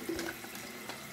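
Water running into a toilet tank through a newly installed fill valve, a soft, steady hiss and trickle heard close up and fairly quiet.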